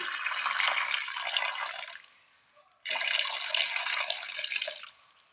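Water is poured into a pressure cooker holding Chinese potatoes, raw banana, drumsticks and onion for a Kerala-style mixed vegetable curry: two loud, close, rushing pours separated by a brief pause, with no voices.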